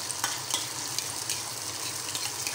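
Chicken and ketchup frying in a pan over a low flame, giving a steady close sizzle with faint stirring scrapes throughout, no voices.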